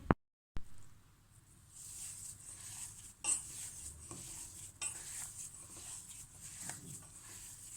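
A utensil stirs a bulgur and potato köfte mixture with greens and lemon juice in a bowl or pan, soft scraping and clinking, a few sharper taps against the side, fairly close.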